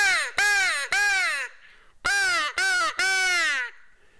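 A crow call device imitating a crow, used for turkey hunting, gives two loud bursts of three harsh caws each, close by with a short pause between the groups.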